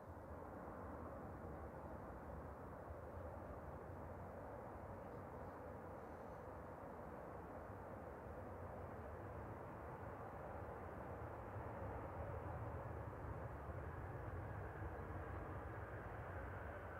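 Airliner landing at Manchester Airport, a steady broad roar of engines in reverse thrust heard from a distance, building slightly louder toward the end, with no one talking.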